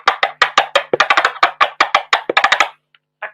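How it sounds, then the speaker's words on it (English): A hand cajon played in the manner of a tavil drum gives a fast run of crisp, sharp slaps and taps in an uneven rhythmic pattern, loud and close, ending with a couple of faint light taps. "So this is like a hand kahong,"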